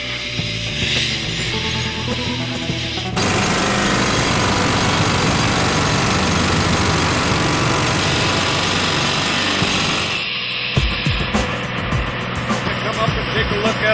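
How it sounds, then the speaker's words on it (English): An air hammer drill hammers into an exposed boulder with loud, continuous pneumatic hammering, rattling steadily for most of the clip, dense and close, then drops to a lighter engine-like clatter near the end. "observe at close range air hammer drill demonstration, whereby the drill bit hammered a path into an exposed boulder"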